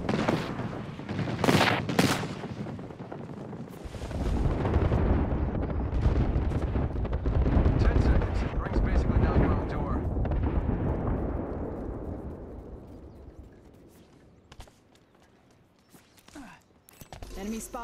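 Booming artillery strike explosions in a battle royale shooter game, a dense roaring barrage of blasts and rumbling impacts lasting several seconds, with sharp gunfire cracks before and after and game voice callouts mixed in.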